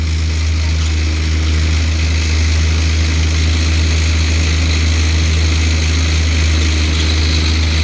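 A Swaraj 744 tractor engine at about 1100 rpm drives a Shree Balaji thresher working coriander on a farm. It makes a loud, steady, continuous mechanical drone with a deep rumble throughout, and no one talks.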